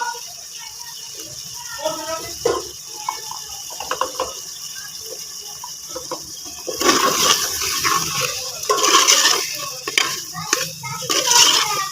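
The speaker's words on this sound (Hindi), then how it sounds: "तो अब इसमें पानी ऐड कर देंगे।" Water is poured into a beef and potato curry in a pressure cooker, a loud sizzling, splashing surge in the second half after quieter stirring and clinking, with talking in the background.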